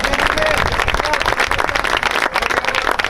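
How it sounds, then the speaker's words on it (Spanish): A church congregation claps loudly and continuously during a sermon, with dense overlapping applause and crowd noise filling the whole stretch, a brief dip near the end. "Dale un fuerte aplauso a nuestro Señor Jesucristo,"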